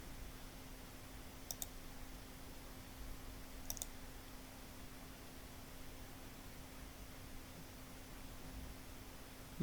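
Two quick double-clicks of a computer mouse, faint and close, sound over a quiet, steady electrical hum while a form is built in Microsoft Access.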